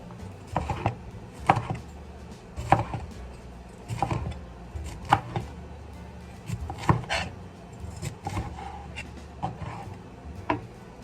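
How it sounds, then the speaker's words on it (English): A knife julienning bell peppers on a cutting board, the blade striking the board in about a dozen sharp, fairly even knocks spaced roughly a second apart, close and clear with no talking. "So I'm going to julienne it."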